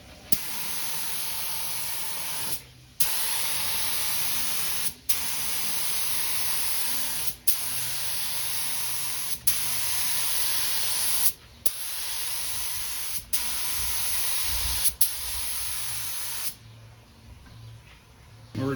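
Rust-Oleum multi-tone spray paint hisses from an aerosol can in a steady run of bursts of roughly two seconds each, separated by brief pauses, loud and close with no talking.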